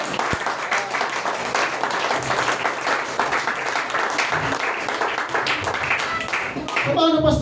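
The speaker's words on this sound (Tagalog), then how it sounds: "Kaya niyo pa bang pumalakpak para sa Panginoon?" A church congregation at a Sunday school service claps for the Lord, dense sustained applause from many hands throughout, swelling slightly louder near the end, with faint voices mixed in.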